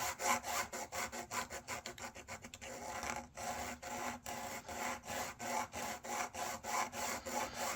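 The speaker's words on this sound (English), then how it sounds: "we want to be able to sand this, and we want to sand it lightly." Light hand sanding of a basswood part for a Model Shipways dory model boat: steady back-and-forth rasping strokes, close and fairly quiet, in a regular rhythm with a brief pause midway.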